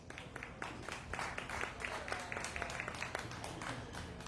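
A crowd applauds at a dairy and pygmy goat show, with scattered, uneven claps from a modest audience sounding moderately near, mixed with some background voices.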